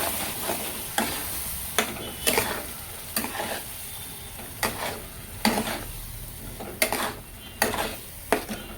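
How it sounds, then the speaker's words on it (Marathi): Ground wet masala paste fries in a pan for a boiled-egg curry, with a steady sizzle under repeated sharp spoon-scraping strokes about once a second, close and clear. "हे वाटण आपण घालून मग फिरून घेऊया 2 मिनिटं"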